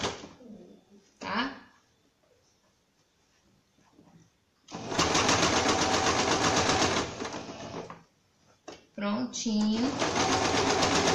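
A sewing machine stitches a seam on a small bag in two loud, fast bursts of steady whirring, with someone speaking Portuguese softly before and between them and handling sounds in the quiet gaps.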